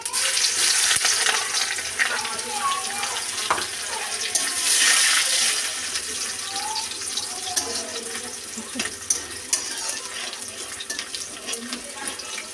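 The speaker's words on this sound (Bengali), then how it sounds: "লাল লাল করে রসুনটা ভেজে নেব।" Onion and garlic fry in hot mustard oil with five-spice seeds in a wok, a steady loud crackling sizzle that runs throughout, with occasional clinks of stirring.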